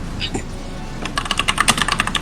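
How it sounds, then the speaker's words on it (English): Rapid keyboard typing clatters in a quick irregular run of close, crisp keystrokes, starting after a brief moment of quiet background noise. "I'm going to get some sound effects of typing."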